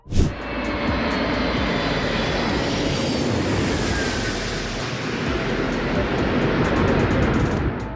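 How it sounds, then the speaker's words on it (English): An airplane's engine roars loud and steady as it flies through clouds, a continuous broad drone holding level from start to finish. "It's rare to see that plane clearing the clouds aside."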